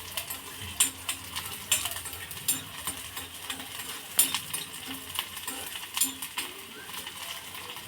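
Chopped wild greens (taakla leaves) stirred and sautéed in a pan: a steady faint sizzle with scattered metallic scrapes and taps of a spoon against the pan, nearby and fairly quiet.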